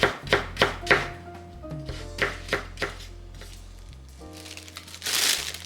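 Knife chopping cabbage into large pieces on a cutting board, a series of sharp, close, rhythmic chops followed by a louder rustle of the cut leaves.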